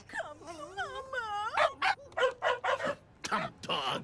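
A cartoon dog whines with long wavering, rising and falling moans, then lets out a run of short sharp barks and yips, loud and close with no talk over it.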